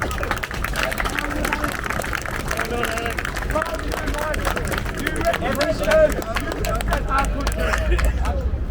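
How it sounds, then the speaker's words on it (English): A protest crowd in Westminster applauds and cheers in a steady, dense wash of clapping, with voices and crowd babble mixed through it the whole time. "Round of applause, I reckon."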